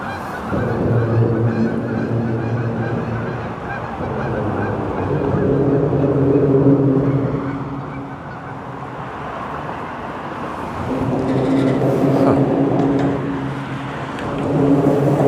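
Several goose honks come in bursts over a constant low drone of traffic or engines on the Welland Canal, rising and fading across the stretch.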